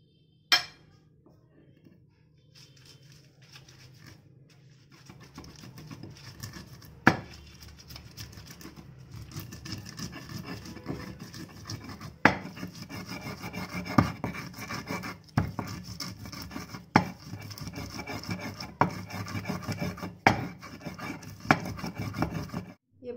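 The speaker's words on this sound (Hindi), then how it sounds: "सिलबट्टे में पीसेंगे, क्योंकि सिलबट्टे में पिसा हुआ बहुत अच्छा होता है" Bathua greens with green chillies and mustard seeds being ground on a stone sil-batta slab, a steady scraping, rubbing rasp with small clinks that builds from faint to fairly loud and continues without talk.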